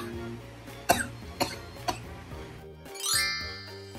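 Three sharp coughs in a row, close and fairly loud, followed by a short rising electronic tone.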